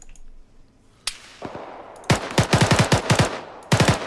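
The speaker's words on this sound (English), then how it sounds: "Are we returning fire? Yeah, fire back." Automatic and single gunfire in the Arma 3 military shooter, a sharp isolated shot followed by several rapid bursts of loud, punchy rounds with echoing tails, coming in clustered volleys.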